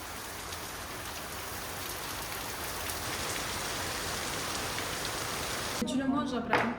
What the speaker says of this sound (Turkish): Şimdi eve geldik ve aniden güçlü bir yağmur başladı.